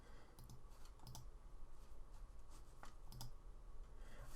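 A computer keyboard tapped in a few scattered single key presses while working in a drawing program, faint clicks spaced irregularly over quiet room noise.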